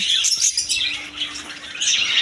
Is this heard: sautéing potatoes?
no